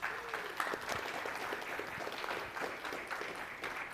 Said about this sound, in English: So a big round of applause for Roxanne, please.